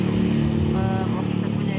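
Many motorcycles pass along a street in a continuous engine drone, loud and near, while a person talks over it.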